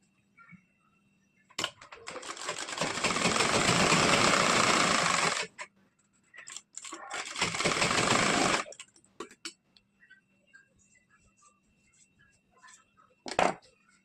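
Sewing machine stitching piping on a princess cut blouse, running in two long bursts of several seconds each, with short quiet gaps and a few brief clicks between and after.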